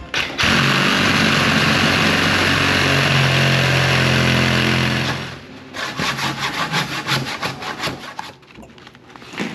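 Bandsaw blade cutting into a tree trunk: a loud, steady grinding rasp for about five seconds, then it stops and gives way to uneven knocks and scraping of the wood being shifted.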